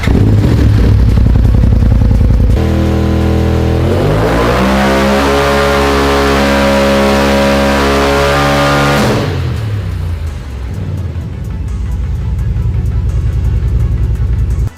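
Polaris RZR turbo engine revving hard, a loud sustained roar that climbs in pitch through a long pull, then drops back to a rough idle, close by.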